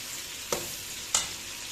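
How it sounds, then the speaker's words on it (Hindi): Meat for Uzbek pulao frying in oil in a pan, a soft, steady sizzle broken by two brief louder scraping stirs. "इसको हमने खूब अच्छा सा ऑयल में फ्राई करना है"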